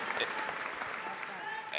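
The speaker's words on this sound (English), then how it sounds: "I know the applause." Audience applause at a lecture event, a steady wash of clapping across the whole short stretch, with crowd voices mixed in underneath.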